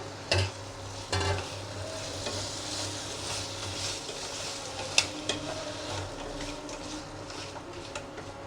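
Crab pieces stirred and frying in a thick, well-cooked spice masala, a steady sizzle with a couple of sharper stirring knocks near the start and occasional scrapes, close and fairly quiet.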